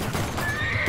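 Horse neighs within the Blue Estate video game, a brief whinny blended into dense, noisy game audio that fills the short moment.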